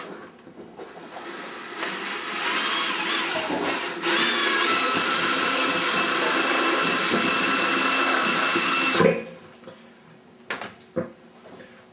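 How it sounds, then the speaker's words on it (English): A power drill bores a half-inch hole through the floor of a plastic bucket for a water filter. A loud, steady grinding whir runs for about eight seconds, then stops, followed by a few light knocks. "we're going to need to drill a 1/2 inch hole through the floor of the bucket"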